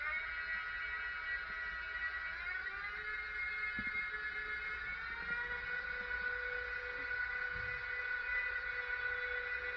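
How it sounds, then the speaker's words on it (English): A No. 66 model train running at speed, giving a steady mechanical whine with high tonal harmonics that rise in pitch as it winds up, continuous and fairly close, with no talking. "the train is getting faster when it moves away, but it's this winding up noise"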